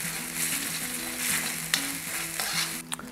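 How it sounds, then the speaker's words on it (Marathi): Masala spices for black chana masala fry in a pan, a close, continuous sizzle with stirring scrapes and a few sharp pops, with no voices. "आणि मग शांतपणे तुम्ही मसाला आपला भाजू शकता"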